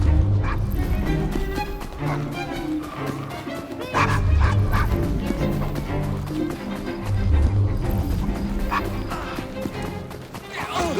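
A dog barks and yips repeatedly in Assassin's Creed Syndicate, mixed into busy game sound with music and a voice talking over it.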